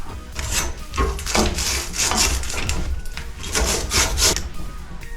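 Hand cleaning tool scraping the cut end of a copper plumbing pipe, heard as close, rhythmic bursts of rasping strokes repeated several times in quick succession.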